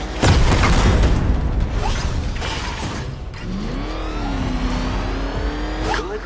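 A car engine revs loudly in Batman: Arkham Knight, a steady heavy roar with a rising, sweeping engine tone over continuous rumble, with no voices.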